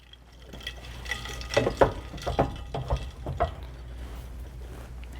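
Water sloshes and drips as a flask is lifted out of an ice-water cooling bath during a lab titration, with a few splashy clinks and trickles up close, then fading.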